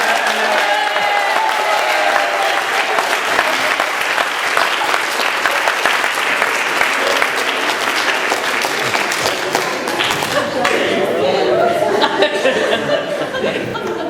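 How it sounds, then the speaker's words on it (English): Sustained applause from an audience fills the whole stretch, steady clapping with a few chuckles mixed in. "Give Dan a big round of applause."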